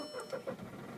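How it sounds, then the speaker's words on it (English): A 2011 Volkswagen Polo SE TDI turning over and firing into life, a brief, fairly quiet start with a few uneven pulses before settling, with no voices. "looking at the display whilst they start the car"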